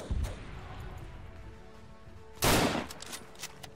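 Gunfire in Arma 3 WW1 trench warfare: a sharp shot at the start, a quieter stretch of background noise, then a loud, dense burst of fire around the middle before fading to distant crackles.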